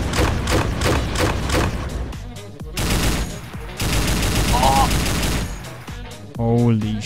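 Rapid bursts of gunfire from the game Unturned, fired while riding a vehicle, loud and dense through most of the stretch with short gaps, mixed with excited shouting voices.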